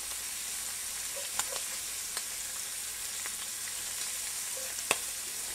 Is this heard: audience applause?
no